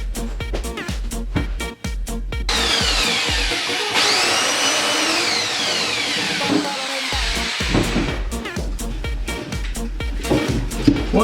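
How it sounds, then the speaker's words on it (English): A power drill bores a hole during a kitchen hood fan installation, loud and close, with sustained whining motor runs, pitch sweeping as the bit bites, broken by bursts of rattling clatter. "Once we've drilled our hole"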